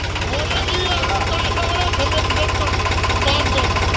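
A tractor engine runs steadily up close, its low, rapid chugging pulse continuous and loud throughout, with faint voices underneath.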